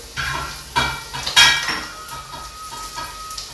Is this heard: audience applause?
no